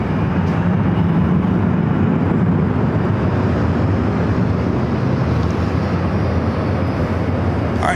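A SkyWest jet takes off from runway 24 left at LAX with a loud, sustained engine rumble and broadband roar that holds steady throughout, heard from a moderate distance.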